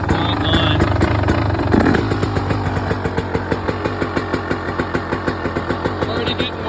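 2023 KTM 300 XC two-stroke dirt bike engine running with the choke off: a loud, close, rapid popping idle that settles into an evenly spaced, pulsing beat, the pulses rising and falling in strength.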